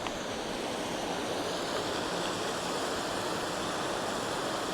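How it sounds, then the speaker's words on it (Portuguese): A Portuguese waterfall heard from above, its rushing water giving off a steady, even roar of broadband noise with no pauses or changes. "E aqui de cima, a cachoeira."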